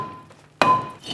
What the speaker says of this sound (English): Go ahead and use our mallet. We'll go ahead and remove our brake rotor.